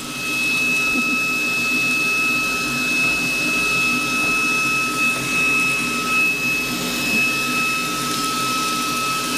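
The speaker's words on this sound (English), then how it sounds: "we have a little vacuum that Kiari loves to use." A small vacuum cleaner runs steadily while cleaning the tray of a GlowForge laser cutter, a continuous close whirring drone with a high whine and slight fluctuations in loudness.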